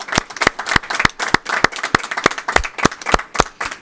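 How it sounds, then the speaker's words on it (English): An audience at a city council meeting claps in a steady round of applause, dense overlapping hand claps close by and fairly loud, with no talking. "let's give them all a round of applause"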